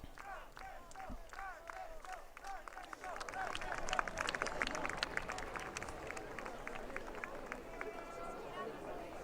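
A large crowd in St. Peter's Square cheers for Pope Francis with scattered shouts, clapping and rising chatter swelling toward the middle, while a voice speaks over the noise.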